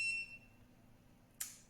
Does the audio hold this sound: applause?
no